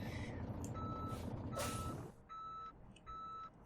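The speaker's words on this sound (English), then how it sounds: "aside from the reversing signal, it's nearly silent" Reversing beeps of a Kenworth W900 truck in American Truck Simulator, two steady electronic tones sounding after a burst of air-brake hiss and engine noise, fairly faint and otherwise near silence.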